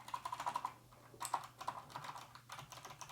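Typing on a Keychron C2 keyboard fitted with unlubed switches, a rapid close run of crisp clacky keystrokes in uneven bursts with brief pauses, no voices.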